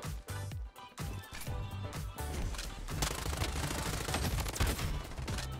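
Rapid full-auto AK rifle fire in the Bloodstrike shooter game, with dense, loud, sustained bursts building after a few brief opening shots, with little talk over it.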